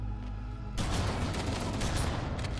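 Grenades go off in a Halo: Combat Evolved firefight, a sudden loud burst of explosive crackle and rumble cutting in after a quieter hum and carrying on as dense, sustained noise.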